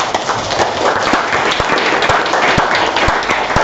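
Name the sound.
applause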